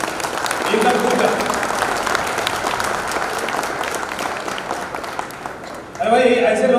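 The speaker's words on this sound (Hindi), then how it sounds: "सबसे पहले आप एक बार खुलकर खुद के लिए जोर से तालियां बजाइए" A crowd at a motivational talk breaks into loud, sustained applause, steady hand clapping filling the space, with a speaker's voice returning over it at the close.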